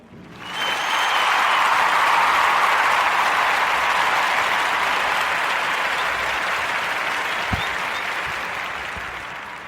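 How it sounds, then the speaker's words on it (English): A podcast audience breaks into a warm round of applause for a guest, rising quickly to a sustained, dense wash of clapping that holds steady and slowly thins toward the end. "join me in giving this brother a warm narrative podcast round of applause"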